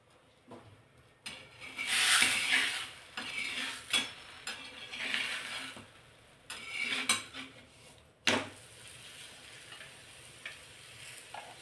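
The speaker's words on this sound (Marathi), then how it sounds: "आता तव्यावर तेल किंवा तूप टाकून पराठे दोन्ही साइडने आपल्याला भाजून घ्यायचे आहेत" Aloo and sweet potato stuffed paratha roasting in oil or ghee on a hot tawa, a steady sizzle broken by repeated scraping and clinks of a spatula against the griddle, with brief louder bursts through the middle.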